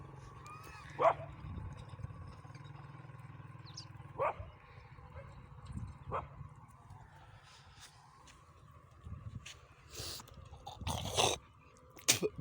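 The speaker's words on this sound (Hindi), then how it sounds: "हमने रखा हुआ है कुत्ता" A village dog barks outdoors in a handful of separate, sharp woofs spread across the stretch, moderately distant over a low steady background hum, with a brief faint voice.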